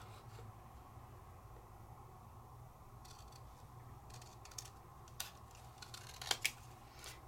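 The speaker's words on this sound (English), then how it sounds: "So my top score line is right there. I'm going to cut that off." Scissors snip through a paper layer at a score line during die-cutting crafting, a few faint crisp cuts over a quiet room hum, building to sharper snips near the end.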